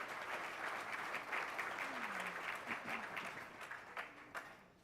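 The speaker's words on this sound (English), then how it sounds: "Let's give them a round of applause" Audience at a ministries fall fundraiser applauding, a steady wash of many hands clapping that swells and then thins out with a few louder individual claps toward the end, heard at moderate distance with no speech over it.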